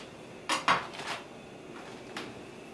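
Dishes and utensils being handled in a kitchen while mise en place is set out for shrimp pad thai: a few sharp clinks and clatters close by, then a softer knock after a pause.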